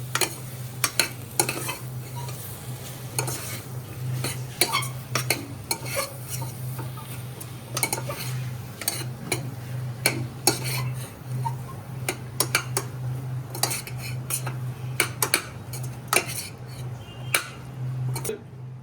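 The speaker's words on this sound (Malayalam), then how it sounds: "എന്നിട്ട് നമ്മളിതെല്ലാം ഒന്ന് മിക്സ് ചെയ്യും." Mushroom biryani ingredients are stirred and mixed in a pot, with repeated scraping and clinking of a utensil against the metal over a steady low hum, close and moderately loud, no talking.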